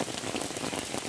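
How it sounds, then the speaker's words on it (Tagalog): Heavy rain pours down during a river fishing outing, a dense, steady hiss and patter of drops on surfaces, loud and close throughout with no voices. "Lakas ng ulan!"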